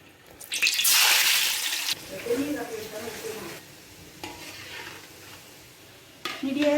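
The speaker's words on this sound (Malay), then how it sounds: "sekarang kita goreng kuih kelapa ya" Coconut fritters (kuih kelapa) frying in hot oil, a loud bubbling sizzle that swells early and then settles into steadier crackling with occasional stirring, heard up close with no talking.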